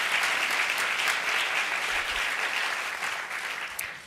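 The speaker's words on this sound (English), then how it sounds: "can we get a round of applause for people who did all that work?" Steady applause from a sizable crowd, dense clapping that holds loud before slowly tapering near the end.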